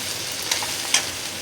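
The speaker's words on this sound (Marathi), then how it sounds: "कांदा हलका भाजला की लसूण चेचून घेतलेला घालूया।" Onion with crushed garlic frying in a pan, giving a steady soft sizzle with two brief louder stirring clinks, close and alone without talk.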